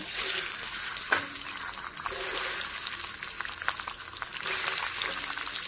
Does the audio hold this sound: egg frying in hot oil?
yes